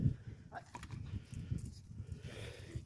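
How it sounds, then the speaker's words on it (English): Goats on a farm making low, snorting grunting noises, faint and close, in irregular bursts with some shuffling and soft background movement. "I'm back over by the goats if you hear their snargling."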